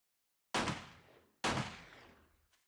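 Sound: gunshots in the video game 7 Days to Die

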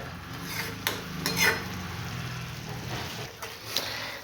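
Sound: stirring and sautéing sprouted moth bean curry in a pan

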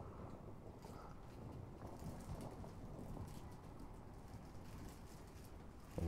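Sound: storm wind in the video game Fortnite

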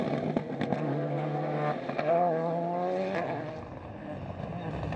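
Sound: Ford Fiesta rally car racing on a stage

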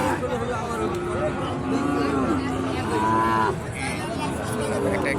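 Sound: cattle at a livestock market

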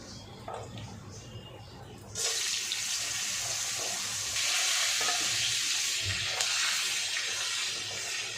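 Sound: potatoes frying in hot oil

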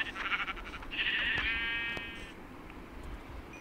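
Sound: sheep bleating in Minecraft PE, a video game

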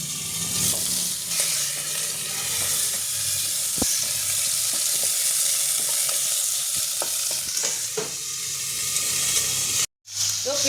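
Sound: fish frying in oil with cumin in a wok

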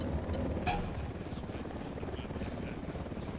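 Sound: helicopter in Ghost Recon Wildlands video game

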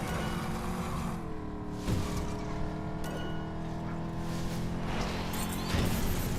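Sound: car crashing and breaking apart in LEGO 2K Drive video game

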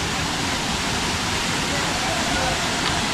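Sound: waterfall

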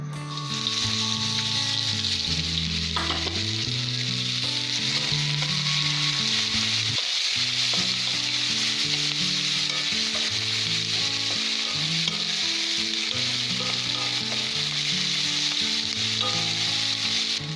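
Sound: cumin and onions sizzling in a pan for baingan bharta

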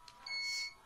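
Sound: UPS beeping during a power cut

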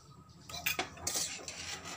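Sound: stirring chilli-ginger mixture for poha cutlets

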